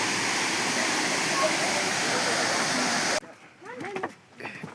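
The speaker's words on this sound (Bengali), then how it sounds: "এই জলটা এখান দিয়ে পাস করে যাচ্ছে" Flowing water at a Meghalaya tourist spot runs as a loud, steady rush for about three seconds, then cuts abruptly to a quieter background with nearby voices and faint chirpy sounds.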